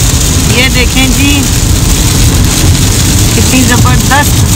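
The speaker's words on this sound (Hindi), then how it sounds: "ये देखें जरा बारिश ना रुक रुक के हो रही है" Rain falling on an outing near Pindi, a dense steady hiss over a low engine rumble, loud and close throughout, with a couple of short vocal-like tonal sounds rising above it.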